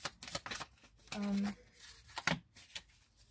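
Tarot cards are shuffled by hand in a few quick riffling bursts, close and crisp, interleaved with a person talking.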